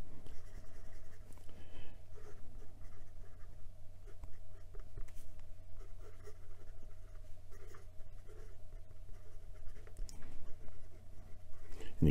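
A broad Visconti Homo sapiens nib on a fountain pen scratches softly and steadily across paper, a faint, continuous, close-up writing sound over a low background hum.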